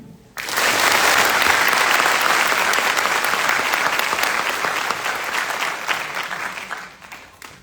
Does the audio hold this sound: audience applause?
yes